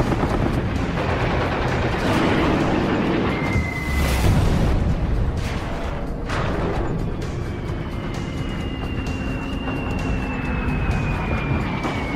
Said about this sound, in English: Helldivers and Avenger torpedo planes from USS Intrepid and USS Cabot swoop into this Japanese task force